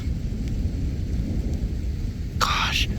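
Thunder rolls from a powerful mesoscale convective storm full of continuous lightning, a steady low rumble under windy outdoor noise, with a brief vocal sound like a cough near the end.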